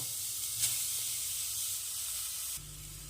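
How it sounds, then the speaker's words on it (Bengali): Grated coconut for a kodom pitha filling toasts in a hot kadai over a gas flame, giving a steady, soft, airy hiss that drops lower partway through. No one speaks. "হালকা হাতে নেড়ে চেড়ে নারকেলটাকে একটু ভেজে নিতে হবে"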